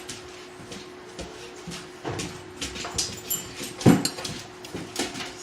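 Puppies playing in a home kitchen during baking, with scattered soft whimpers, light scuffles and bumps of paws and toys at close range, a steady faint hum underneath.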